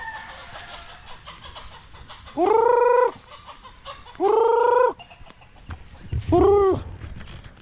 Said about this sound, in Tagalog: Meron din tayong mga sisiw dito. Dito yung mga sisiw.